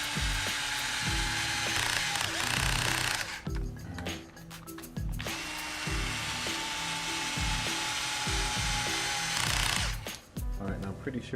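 Power drill driving screws into a Traxxas Slash LCG RC car, two long whirring bursts with a pause between and short stops at the end, close and clear, with some talking.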